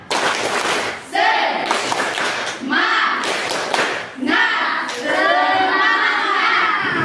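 Schoolchildren in a classroom perform a rhythmic clapping chant, bursts of group clapping and hand thumps alternating with children's voices chanting together, close and lively.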